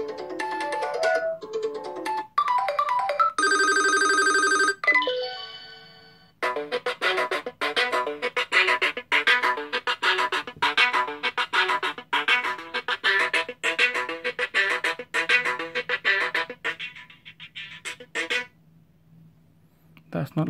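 A series of different ringtones plays from an HTC U11 smartphone, one short melodic tone after another with brief pauses between them, then a longer chiming pattern that stops near the end. The sound is clear and close, with no talking.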